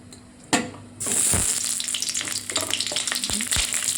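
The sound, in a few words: cauliflower lightly frying in oil in a wok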